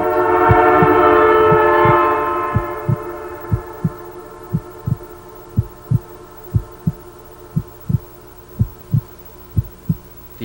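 A passing train rumbling and shaking a home, a loud rolling roar at first that fades as it moves away, leaving a steady low hum with rhythmic heavy thumps repeating about every half second.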